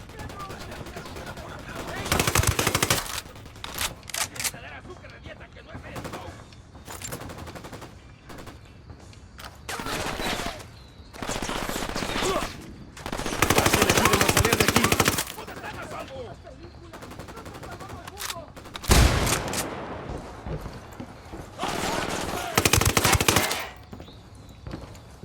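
Bursts of automatic gunfire in the video game Ghost Recon Wildlands come in repeated loud volleys with short lulls between them, while voices talk underneath.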